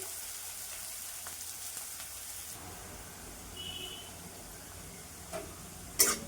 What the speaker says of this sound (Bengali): পেঁয়াজটা লাল লাল করে ভেজে নি দু মিনিট